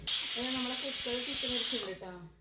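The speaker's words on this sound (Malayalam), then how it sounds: "കുക്കർ ഇപ്പം രണ്ട് പീസിലടിച്ചു" A loud, sharp pressure cooker whistle blasts steam for nearly two seconds, then cuts off, while a person talks underneath it; chicken curry is cooking.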